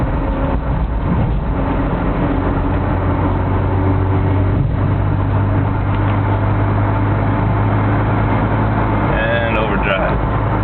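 A 1989 Volvo 240DL wagon with a 5-speed cruises on the highway in overdrive, a loud, steady interior drone of engine and road noise throughout, with a brief squeak near the end.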